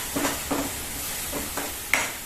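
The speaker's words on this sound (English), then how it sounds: "The garlic has to be roasted properly, otherwise it gives a raw taste" Garlic roasts with meat masala in a pan, with soft frying sizzle under several short scraping stirs of a spoon, close and moderate in level.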